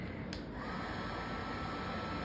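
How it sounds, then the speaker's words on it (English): A drill runs steadily during repair of a Space Firebird arcade cabinet's blown-out, resin-soaked particleboard corners, giving a loud, continuous whirring hiss with no pauses. "That's the drill."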